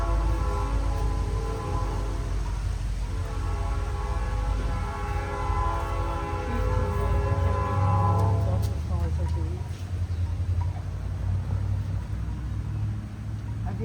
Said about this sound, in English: Have you ever seen the train running in tracks?